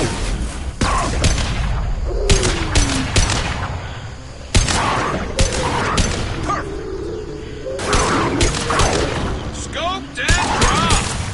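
Sniper rifle fire in the video game Mass Effect 2, with sharp, loud shots and booms repeating through continuous combat noise, mixed with game voices speaking.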